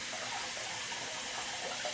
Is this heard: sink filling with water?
yes